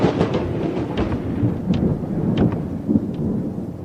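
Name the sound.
thunder sound effect in audio story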